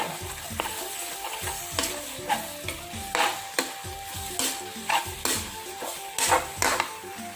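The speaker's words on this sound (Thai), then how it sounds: "คนไปเรื่อยๆเลย" Steady stirring in a pot of fish sauce broth with soft scraping and irregular clinks of a utensil against metal, over a low sizzle.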